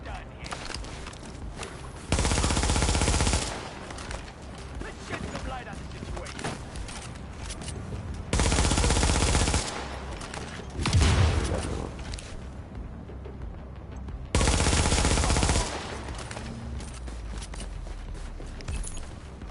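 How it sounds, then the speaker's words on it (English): Gunfire in The Division on PS5, with three loud bursts of automatic fire a few seconds apart that cut through the quieter game ambience, and a voice talking over the gaps between them. "I saw them shooting at somebody else for a second"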